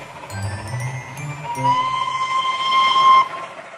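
Small railway steam engine sounds a shrill whistle, a sustained blast after a few brief lower puffs, fairly close and prominent over a soft background.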